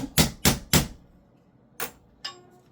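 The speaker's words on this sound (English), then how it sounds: "I do have to kind of beat it on there a little bit" A handguard is hammered onto a gun it was not made to fit: three quick, sharp, close strikes, then a pause and two more separate knocks.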